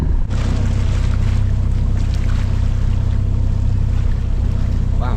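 A sailboat's engine runs steadily with the genoa sail filled during an approach on open water, a loud constant low drone blended with rushing water and wind, no voices.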